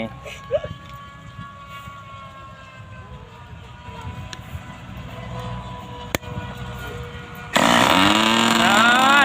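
A PC-6 RC agricultural model plane, converted from electric to a nitro fuel engine with a tuned exhaust pipe. A quieter, buzzing stretch with talking suddenly gives way to a very loud, high-pitched engine roar near the end.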